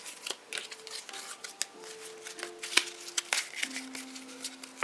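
Tarot cards shuffled and handled during a pick-a-card reading, with a steady run of soft papery flicks and riffles, fairly close and quiet, carrying on without pause and with no talking.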